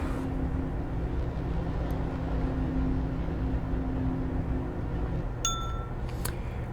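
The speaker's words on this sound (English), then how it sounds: "the Elo bell tells me it sounds like I'm going to have to go north" A bright bell chime from the Myst (2021) remake rings out briefly near the end over a steady low ambient drone, a few clear tonal strikes with a short ringing tail.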